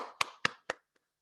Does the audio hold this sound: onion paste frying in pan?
no